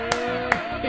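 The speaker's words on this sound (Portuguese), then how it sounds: "Eu vou aplaudir de pé." A single person claps a few separate times at a live-streamed music game show, the sharp hand claps standing out over a backing of music.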